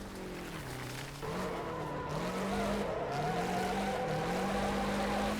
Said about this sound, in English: Oh, big drifts.